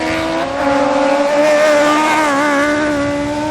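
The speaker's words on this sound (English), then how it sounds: "You go out, you drive fast on a race circuit" A Superlite race car drives fast on a race circuit. Its engine makes a loud, sustained, close roar with a wavering, slightly rising and falling pitch throughout.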